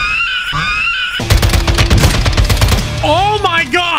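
Rapid rifle fire from an SO14 battle rifle in Warzone 2 bursts loud and close in a dense stream of shots, set against game effects and brief tonal sounds before and after.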